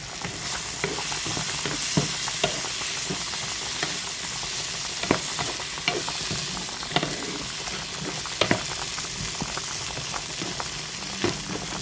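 Carrot and bean curry sautéing in a pan, a continuous close sizzle with a regular series of spoon scrapes and clicks as it is stirred, no voices.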